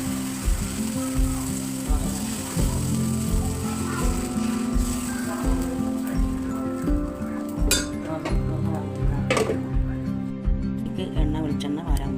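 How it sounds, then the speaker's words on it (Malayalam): Dosa batter sizzles steadily on a hot pan, a continuous crackling fry with faint clinks of utensils, loud and close throughout. "ചൂടാൻ പോവുകയാണ്. ദോശ പാചകമാണ്."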